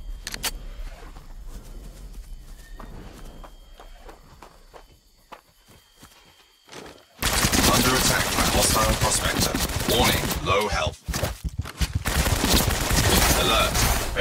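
Gunfire from a hostile prospector in the multiplayer shooter The Cycle, with soft footsteps and movement at first, then loud, dense, sustained bursts of shots roaring in close and continuing to the end.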